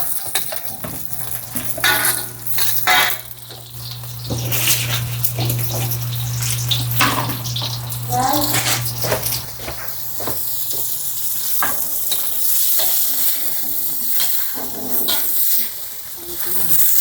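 Onions go into a hot pan after garlic browned golden, sizzling and frying steadily with repeated stirring scrapes, a continuous hiss broken by clatters, while someone talks over it in Filipino.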